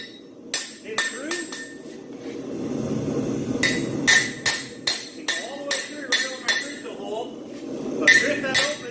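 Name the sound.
hammer tapping punch through horseshoe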